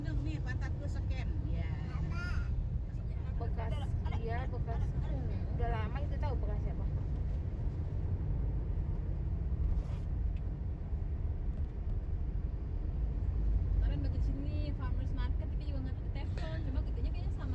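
Busy road traffic with engines rumbling and motorbikes passing through, continuous and fairly close, with a person talking over the noise.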